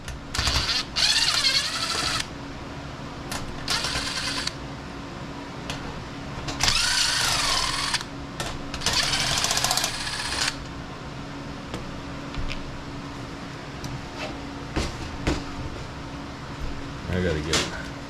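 A handheld power driver whirs in several short bursts while backing out two screws holding a fan blade on a salvaged dumpster-dived refrigerator, with a voice talking between and under the bursts.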